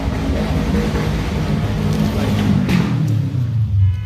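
A loud car engine revs and roars past close by, a steady rumbling drone that swells toward the end.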